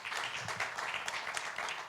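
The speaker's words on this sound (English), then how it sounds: "I would like to invite you for a word of applause to our panelists." Audience at a Doha Forum panel on Mediterranean relations applauds the panelists, a steady dense wash of many hands clapping, fairly loud and continuous throughout, with no talk over it.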